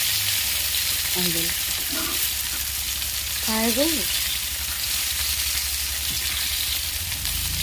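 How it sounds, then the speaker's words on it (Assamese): Tomatoes frying in a pan for a paneer dish give a steady, close sizzle that runs throughout, with a few short vocal sounds briefly rising above it. "বিলাহীখিনি দিও অলপ সময় ভাজিব লাগিব।"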